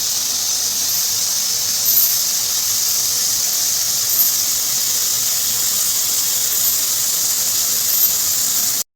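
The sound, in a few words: stir-frying tofu and bean sprouts in a pan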